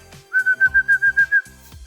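A person whistles a run of about eight short, even, high-pitched bursts in quick rhythm, close and clear, between faint background sounds.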